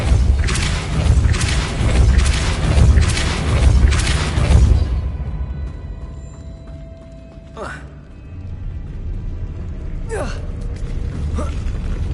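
A Depulso spell is cast in Hogwarts Legacy, a dense booming, rumbling burst of magic lasting several seconds up front, followed by a quieter stretch with a couple of brief whooshing swishes later on.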